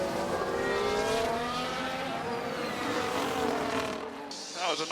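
F1 cars in F1 Manager 24 at Zandvoort rush past one another in an overtake, engine whines rising and falling in pitch as they pass close by, loud and continuous, with a short drop near the end.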